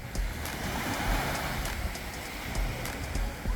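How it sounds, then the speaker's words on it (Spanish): Waves roll and wash onto a beach at Tayrona, Colombia, a steady broad surf roar with light wind, close and continuous, with no voices. "Y llegamos a la playa."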